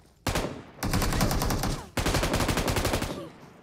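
Automatic rifle fire in a mobile battle royale shooter rattles out in two loud, rapid bursts of closely spaced shots, each lasting over a second, with a short earlier shot before them.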